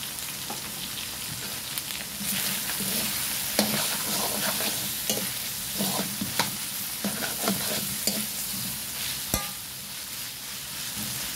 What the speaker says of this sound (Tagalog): Igisa lang natin saglit. Mga ilang minuto. Yung babango yung ating mga garlic and onion.